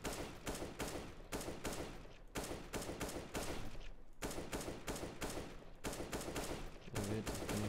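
Rapid automatic AK rifle fire in Counter-Strike during a warmup match, repeated sprays of gunshots in bursts about a second long with short gaps between, loud and continuous.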